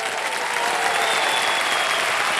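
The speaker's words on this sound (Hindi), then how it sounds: "ताली बज जाए इनके लिए।" A studio audience on the quiz show Kaun Banega Crorepati breaks into steady, loud applause, a dense wash of clapping that holds evenly from start to finish with no one speaking.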